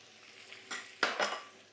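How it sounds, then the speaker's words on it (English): Onions drop into a hot pan and start frying, with a couple of sharp utensil clatters and quick bursts of sizzle rising over a quiet kitchen background. "I'm just going to add some lovely onions."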